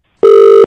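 Telephone ringback tone heard while placing a call, a single loud steady electronic beep lasting under half a second, then silence.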